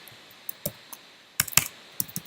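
Light keyboard typing up close, scattered quiet key clicks with a short burst of faster keystrokes in the middle, no voices.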